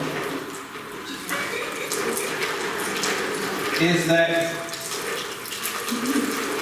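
Water is poured steadily into a container, a continuous splashing, trickling wash that swells briefly in the middle, with a few quiet spoken words over it.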